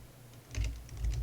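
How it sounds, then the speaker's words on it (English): Fingers type a few quick keystrokes on a computer keyboard, close and crisp, while entering a terminal command. "we'll type pip install"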